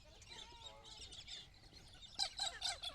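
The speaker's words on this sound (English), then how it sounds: "there were hundreds of birds right near me right now" Many birds chirping outdoors, a busy chorus of high tweets and calls that turn louder and more crowded near the end, with no talking.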